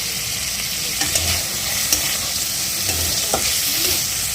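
Chicken pieces fry in a wok with ginger-garlic paste and turmeric, giving a steady close sizzle with occasional clinks and scrapes of stirring and no voices.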